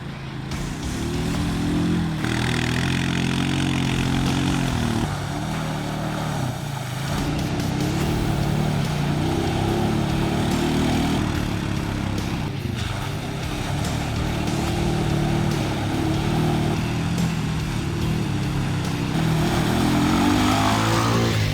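A 2021 Honda Foreman Rubicon 4x4 EPS 520 ATV with manual shift churning through mud holes, its engine droning loudly and steadily with rising and falling revs throughout, close and with no talking.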